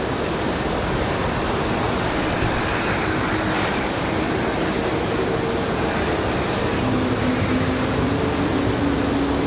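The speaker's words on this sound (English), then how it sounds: "We've got that Air Canada 7021, this one coming in from Buffalo, New York. An A320." An Air Canada A320 airliner arriving at Raleigh-Durham airport gives a steady, broad jet roar that holds for the whole stretch, fairly loud, with a faint rising engine tone toward the end.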